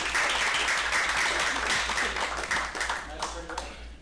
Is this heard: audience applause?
yes